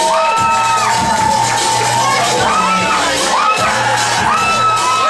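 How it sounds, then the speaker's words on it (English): A wrestling crowd at a pro wrestling show cheers wildly for the wrestler Jake McCluskey, with loud, continuous roaring, whoops and shouts that swell and surge throughout. "the crowd are going wild for him"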